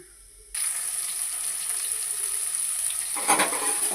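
Onions hit hot oil already crackling with mustard seeds, cumin and fenugreek for an okra and egg tamarind stew, bursting into a loud, steady sizzle that swells with stirring near the end.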